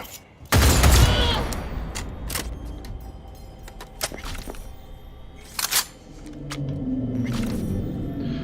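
Gunfire from a weapon in the video game Cyberpunk 2077: a loud opening burst of shots, then scattered sharp single reports and clicks over a steady low engine-like hum.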